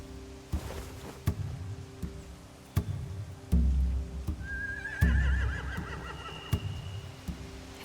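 Horses in The Walking Dead video game whinny loudly nearby, a long neigh rising midway, over hoof clops and sharp thumps repeating at irregular intervals.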